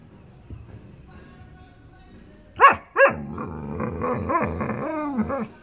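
Two sharp barks from several dogs break out near the middle, followed by continuous low growling and snarling, close by over a quiet background.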